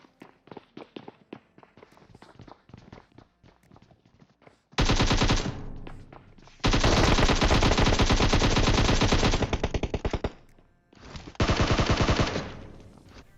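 Gunfire in the mobile battle-royale game PUBG Mobile: scattered single shots and footsteps lead into long, loud automatic bursts, a pause, then another sustained burst, with no talk.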